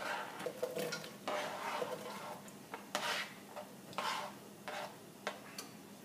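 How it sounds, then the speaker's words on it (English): Sliced red onions sauté in a pan, giving a soft, quiet sizzle with irregular clicks and scrapes as they are stirred. The sound is close by but low in level. "Get a nice saute on those."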